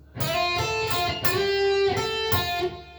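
A distorted lead electric guitar plays a short solo phrase from a song, sustained, bending notes with a few picked attacks, clear and close with no talking.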